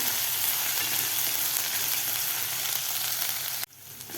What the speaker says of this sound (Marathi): आलं लसूणची पेस्ट थोडीशी आपल्याला परतून घ्यायची आहे